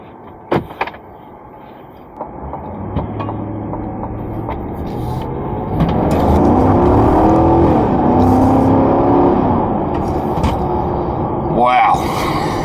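A 2023 Chevrolet Silverado ZR2 with its 6.2 litre engine accelerates on the road, the engine note rising into a loud, sustained roar heard from inside the cab after a few earlier thumps and clicks.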